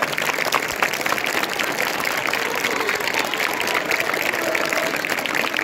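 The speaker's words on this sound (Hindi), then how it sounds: "पक्का ये जोरदार तालियां हैं" Ongoing applause from a school audience for a theater workshop team, a dense, even wash of clapping with some murmuring voices underneath.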